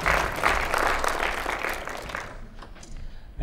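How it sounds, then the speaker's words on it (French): Audience applause at a 2021 corporate keynote, steady dense clapping from the hall that fades out toward the end of the clip. "On va l'applaudir"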